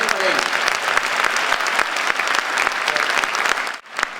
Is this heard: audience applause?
yes